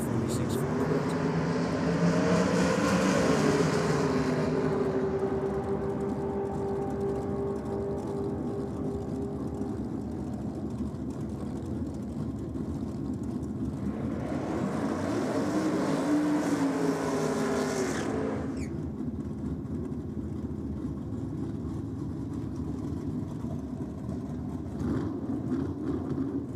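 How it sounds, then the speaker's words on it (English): Drag racing cars at an NSW championship meeting doing side-by-side burnouts, their engines roaring with tyre screech in two long, loud surges separated by a steadier rumble, with a commentator talking throughout. "Good side-by-side burnouts there from Lisa Sargent and Joe Sorbello."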